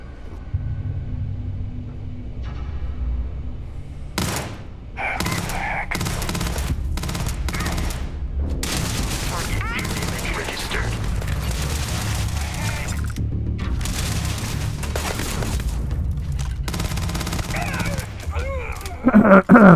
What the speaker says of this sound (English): So our man there was doing a bit of shooting as well, helping us out.